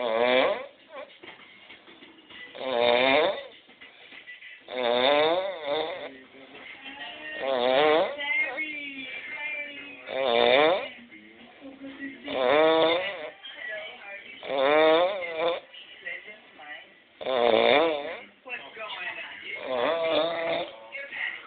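A roommate snores deep in sleep nearby, loud rasping snores repeating every two to three seconds in a steady rhythm with quiet breathing between them.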